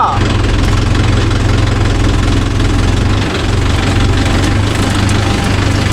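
A Mahindra 575 DI tractor engine runs at a steady idle with a loud, low, knocking diesel throb and vibration, close by and continuous.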